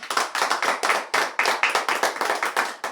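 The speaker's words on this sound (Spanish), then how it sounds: "Dale un aplauso al Señor" A church congregation claps in praise to the Lord, a quick rhythmic run of close, sharp handclaps in an even beat, alone without voices.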